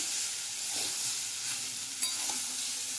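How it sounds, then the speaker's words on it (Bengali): Boiled papaya and potato are stirred and sautéed with spices in a pan, giving a steady soft sizzle with faint stirring scrapes, close and continuous with no talking. "এবার আমি সেদ্ধ করে রাখা পেঁপে আর আলু দিয়ে মশলার সঙ্গে বেশ ভালোভাবে কষিয়ে নিচ্ছি"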